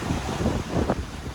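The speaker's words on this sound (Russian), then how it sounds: "Сейчас будет волна." An ocean wave surges and crashes on the rocky shore at Los Gigantes, Tenerife, a brief broadband rush almost buried under heavy wind buffeting on the microphone.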